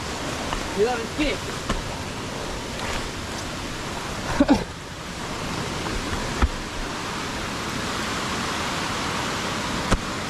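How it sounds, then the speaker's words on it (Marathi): Near Kondeshwar Temple outside Pune, a waterfall hisses as a broad, steady wash of noise, with a few faint knocks and scuffs over it and no clear voices. "त्या धबधब्याच्या"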